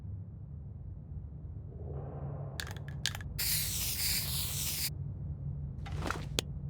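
In the survival game The Long Dark, a spray paint can lets out a few short hissing spurts, then a long steady spray of about a second and a half, and finally two more brief bursts, all close and clear.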